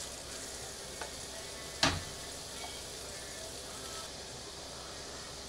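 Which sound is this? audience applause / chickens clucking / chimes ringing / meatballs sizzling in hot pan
meatballs sizzling in hot pan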